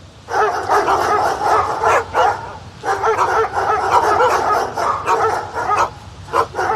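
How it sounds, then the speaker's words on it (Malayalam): Several dogs bark and yip in rapid, overlapping bursts, loud and close, with brief pauses between flurries during a staged faith festival performance. "അയ്യോ നായ്ക്കൾ, എനിക്ക് പേടിയാവുന്നു"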